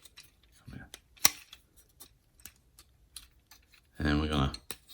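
The chest piece of a Mastermind Creations R-32R Stray reissue, a plastic transforming robot figure, is folded down: sparse, sharp plastic clicks and taps close by, with a short burst of speech near the end.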